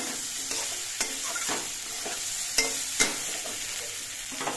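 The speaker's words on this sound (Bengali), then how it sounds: "হলুদের গুঁড়ো দিয়ে নেড়ে চেড়ে মিশিয়ে নেব" Potatoes are stirred with turmeric powder in a sizzling pan, with a constant close frying hiss and occasional spatula scrapes and taps against the pan.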